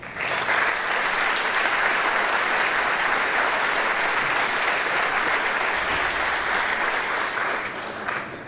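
Sustained applause from an indoor audience honoring Candor School District honorees at a recognition ceremony, steady and dense clapping for about eight seconds with no speech over it.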